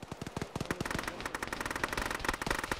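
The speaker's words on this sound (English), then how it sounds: "People are shooting at us." Rapid automatic gunfire in the Arma military game, long bursts of sharp close shots in a fast, irregular rhythm filling the whole stretch, loud and without talking.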